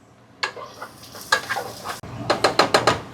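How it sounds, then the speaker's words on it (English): Diced onion, celery and pepper browning in oil in a pan for an alligator gar dish, heard as a run of close, sharp spatula scrapes and clacks over a soft sizzle, the strokes quickening into a steady rhythm toward the end. "I'm just gonna brown it up a little bit."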